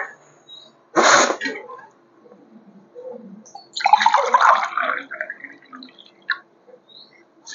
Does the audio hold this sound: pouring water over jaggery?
yes